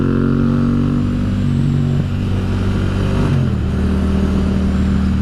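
A car passes close by, its engine a loud, steady low rumble with a brief shift in tone midway, going on for the whole stretch with no voices.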